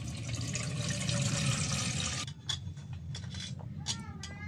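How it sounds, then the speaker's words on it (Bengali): Water pours steadily into a basin for washing cut potatoes in a home kitchen, a loud continuous rush that stops after about two seconds and gives way to scattered drips and small splashes. "গামলায় জল দিয়ে নিচ্ছি আলু ধোয়ার জন্য।"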